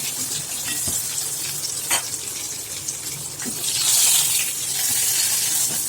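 Eggplant pieces sautéing in a pan, a loud, steady, close sizzle with a few sharp spatula scrapes and taps, swelling briefly toward the end, no voices.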